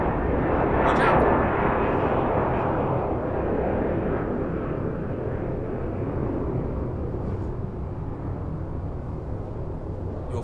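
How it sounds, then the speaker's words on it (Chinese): An airplane in the racing game Gran Turismo 7, played in VR, roars overhead as a broad engine rumble that peaks early and slowly fades over ten seconds. "飞机飞过天空"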